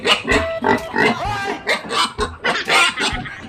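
Piglets in a clean pen on a sow farm, grunting and squealing in quick repeated bursts, several close overlapping voices, loud and busy.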